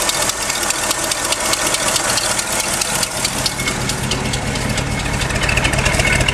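1974 Ford F250 Ranger XLT 4x4 long-bed pickup idling, a steady close rumble with a slightly uneven, ticking beat that holds at even loudness throughout, no voices.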